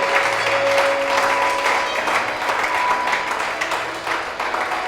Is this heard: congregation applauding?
yes